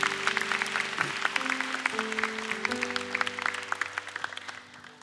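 A church congregation claps at a Sunday service, with dense, steady applause over sustained low tones that thins toward the end.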